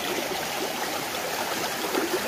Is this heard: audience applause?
no